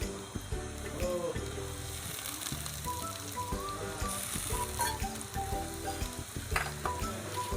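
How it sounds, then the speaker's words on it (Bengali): Dried fish sizzling and frying in a pan with chopped onions, a steady crackling hiss with intermittent stirring and scraping throughout, close and fairly loud, no talking. "পেঁয়াজটা নেড়ে চেড়ে নিয়ে এবার শুটকি মাছটা দিয়ে দিচ্ছি।"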